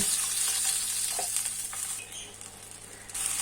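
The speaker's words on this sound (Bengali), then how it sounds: "মশলা থেকে তেল ছেড়ে দিয়েছে। এখন আমি ঝোলের জন্য জল দিয়ে দিব।" Water poured into fried masala for a catfish curry gives a loud, continuous hiss and sizzle that starts strong, eases a little midway, then swells again near the end.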